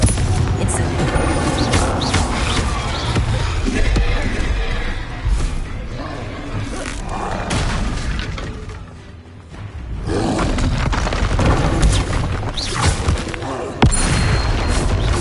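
Incendio fire spell cast in a Harry Potter video game, a loud, roaring whoosh of flames with booming bursts, sustained and dense, with a brief dip before the roar swells again.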